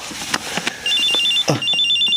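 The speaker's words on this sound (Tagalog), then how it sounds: "cellphone ko." A cellphone ringing with a repeating electronic tone, loud and close, preceded by a few sharp knocks or clicks.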